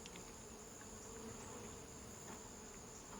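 Honeybees buzz around a hive during an oxalic acid vaporizer treatment, a faint, steady droning hum with a few louder passing buzzes and no talking.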